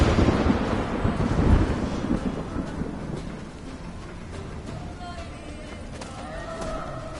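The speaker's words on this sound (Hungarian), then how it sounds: "Oda csap valahol a villám," Thunder from a lightning strike in The Witcher 3 rumbles loudly at first and fades into a lower roll, with rain and faint horse sounds in the background.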